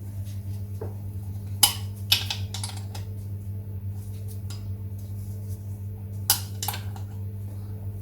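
A hand tool loosening crankcase studs on a Triumph Trident T150V engine during a rebuild, a few sharp metallic clicks and clinks spaced apart over a steady low workshop hum.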